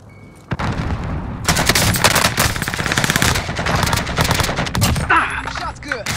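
Rapid automatic gunfire rattles in the video game Warzone, with dense bursts of shots and impacts and a sharp crack at the start. Faint game voices come in near the end.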